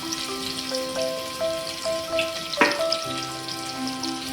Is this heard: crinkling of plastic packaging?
no